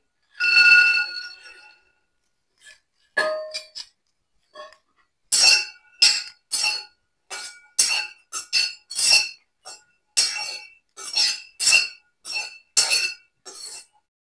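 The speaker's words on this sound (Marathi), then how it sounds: "कढई गरम झालेली आहे. बिया आपण भाजून घेणार आहे." Fresh pigeon pea seeds roast in a hot iron wok over a wood-fired stove, giving irregular sharp pops and squeaky crackles. The bursts come in quick clusters with silent gaps between them.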